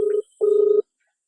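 A telephone call being placed gives two steady electronic tone pulses, a short one then a longer one after a brief gap, clear and alone, followed by silence.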